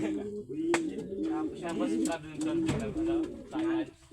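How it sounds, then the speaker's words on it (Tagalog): Pigeons coo in a steady, repeating rhythm close by, each soft rolling call following the last, while a voice talks faintly over them. "Yun mga kalapatids oh"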